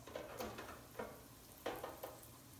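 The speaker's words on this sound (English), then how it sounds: "I'm making a wish and I'm dropping the balls." Dough balls dropped into hot oil while a sauce simmers nearby, giving a steady close sizzle and bubbling with a few sharper splashes and stirring clinks as pieces go in.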